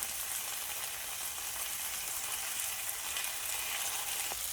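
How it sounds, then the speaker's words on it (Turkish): Tomato and pepper paste sizzles in a hot pan, a steady, close frying hiss that holds evenly throughout with no talking. "Bir yemek kaşığı salça koyuyoruz. Bir yemek kaşığı biber sal salçası."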